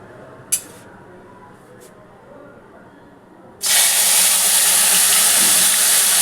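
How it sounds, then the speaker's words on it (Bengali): A kadai sits quietly with faint background noise, then chilli, onion, garlic and tomato paste hit the hot oil and a loud, sudden sizzle bursts out, holding as a steady, intense hiss. "কড়াইয়ের তেল আমার গরম হয়ে গেছে। আমি এগুলো সব আগে দিয়ে দিচ্ছি।"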